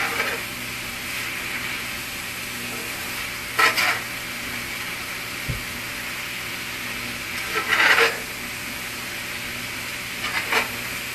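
Vegetables sizzle softly in a pan with liquid aminos, a steady low fry broken by a few brief louder bursts of stirring or scraping spaced several seconds apart, no talking.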